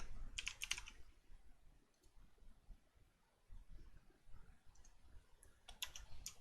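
Bursts of computer keyboard typing come in short clusters near the start and end, separated by a quieter stretch with low background noise.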